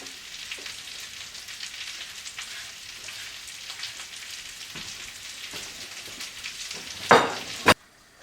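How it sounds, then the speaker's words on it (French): Onions frying with pancetta in a pan on a hot wood stove, a steady crackling sizzle like light rain, ending with two loud close knocks or clatters. "je peux faire cuire les oignons avec la pancetta"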